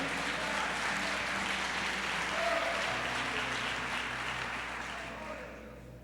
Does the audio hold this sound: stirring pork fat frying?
no